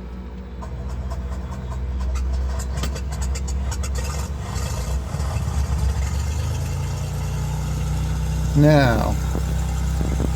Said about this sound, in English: let me start the aircraft up and turn my fuel on